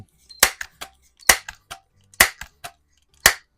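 A vintage 1992 Crosman 760 air rifle fires RWS R10 match pellets, four sharp, loud cracks spaced roughly a second apart, each followed by a faint metallic tick or clatter.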